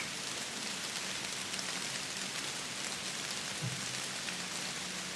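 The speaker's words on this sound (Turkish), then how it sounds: "Yağmur yağıyor gene. Duyuyor musun?" Steady rain pours down in a continuous, even hiss of drops hitting surfaces, close and uninterrupted for the whole stretch with no voices.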